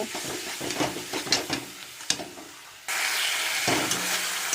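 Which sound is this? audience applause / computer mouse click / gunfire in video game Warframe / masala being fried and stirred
masala being fried and stirred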